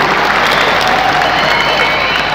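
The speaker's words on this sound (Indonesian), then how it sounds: "Tepuk tangan Bapak Bupati luar biasa" Audience applause mixed with crowd noise at a Kabupaten Bandung dzikir and sholawat gathering, a steady dense wash of clapping held at even loudness for the whole stretch, with voices faintly underneath.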